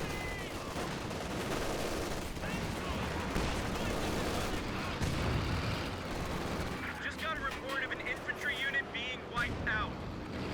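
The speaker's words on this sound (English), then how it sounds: "Assault Engineers firing away" Rapid small-arms and machine-gun fire from Assault Engineers in a Company of Heroes 2 battle, bursts and crackling volleys layered with explosions and engine rumble, busy and continuous, with intermittent sharp shots growing more distinct toward the end.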